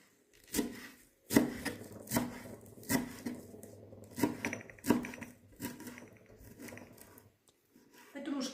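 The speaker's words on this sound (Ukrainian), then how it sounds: "І швиденько нарізаю зелену петрушку." A knife chops fresh parsley on a board in a series of crisp, quick strikes, close up, with short pauses between bursts.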